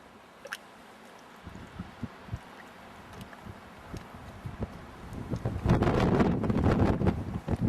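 Wind gusting high on a mountain in the Cabinet Mountains, buffeting the microphone with scattered thumps that build into a steady, louder rumble toward the end.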